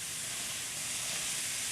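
Three quarters of a pound of 90% lean ground beef browns in a pan with no oil, giving a steady, even sizzling hiss close by.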